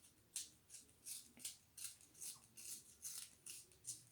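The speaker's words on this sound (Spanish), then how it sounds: "Primero voy a tajar mi lápiz." A pencil is sharpened in short, rhythmic scraping strokes, about a dozen in quick succession, crisp and close but quiet, with no talking.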